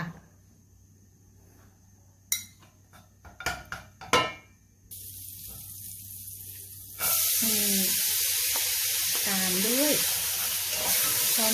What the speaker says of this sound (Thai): เรามาเริ่มผัดกันเลยค่ะ ใส่เนยลงไปนะคะ